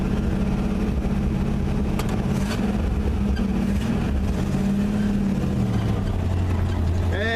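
A 1955 GMC 370-series truck drones loudly and steadily up close, its engine note shifting as it works in reverse up a hill; a voice is faintly present.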